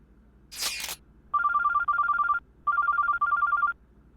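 A phone rings in two bursts of repeated electronic warbling tones, clear and fairly close, after a brief rustle, then stops as the call diverts to voicemail.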